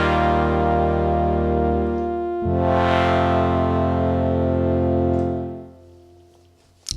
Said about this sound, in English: There's a nice built-in convolution reverb, so let's start with that by enabling it.